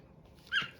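A cat gives one short, faint meow-like cry lasting well under a second, heard alone against a quiet indoor background.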